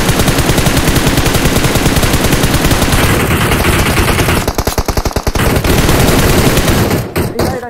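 Rapid automatic gunfire in PUBG Mobile, a loud, dense string of close shots rattling almost continuously, breaking into short bursts toward the end, with brief voices underneath.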